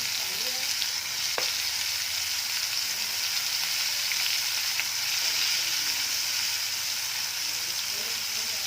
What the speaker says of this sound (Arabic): هاتي طاسة صغيرة واحط فيها شويه الزبده